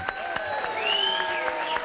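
Brief audience applause at a live jazz concert, a short burst of clapping mixed with voices and lingering tones, moderately loud.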